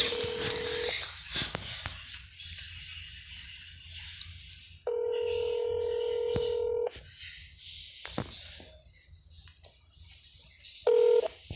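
Telephone keypad tones for an outgoing call, heard as loud, steady dialing beeps, one long tone and a later short one, set between brief clicks and handling noise with faint talk around them.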